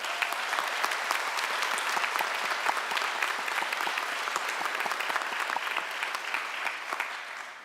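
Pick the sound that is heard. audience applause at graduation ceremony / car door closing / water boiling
audience applause at graduation ceremony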